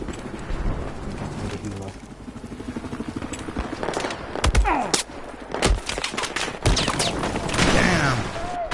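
Gunfire in Battlefield 4 conquest gameplay comes as bursts of rapid automatic shots and single cracks, mid-distance and fairly quiet, mixed with game noise while a player talks.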